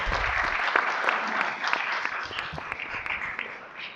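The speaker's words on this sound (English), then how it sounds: "Another round of applause for our amazing health division." Audience applause at a county board meeting, a steady round of clapping with distinct sharp individual claps standing out, sustained throughout and easing slightly toward the end.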